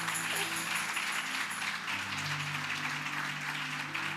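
An audience applauds at a church testimony event, with dense steady clapping throughout and a low sustained musical tone beneath it.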